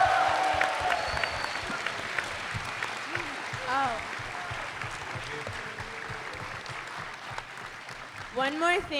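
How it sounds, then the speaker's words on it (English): Audience applause for the Super Ninja Steel cast at a Power Morphicon 2018 panel, a steady wash of clapping under scattered voices and cheers, with a brief whoop near the end. "Let's give them a big round of applause again."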